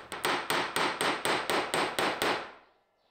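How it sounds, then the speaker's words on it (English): Brass and steel gladius pommel being forged under a hammer: nine sharp, evenly spaced ringing blows at a brisk steady rhythm, close and loud, the last one decaying into silence. "I'm going to be hammering down on the brass and the steel, and that's going to, in a sense, forge them"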